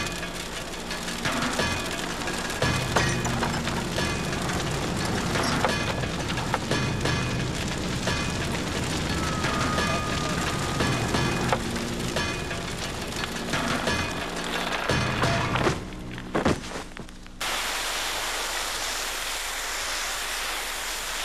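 Hotel room mock-up furnished with mattresses and furniture burning after being set alight, a loud continuous roaring blaze with crackles and bursts, dropping to a steadier hiss near the end.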